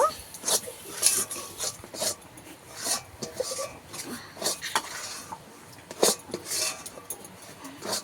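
A spoon scrapes and stirs a semolina and milk mixture in a kadai, uneven bursts of clinking and scraping against the metal pan, close and moderately loud with short pauses between strokes.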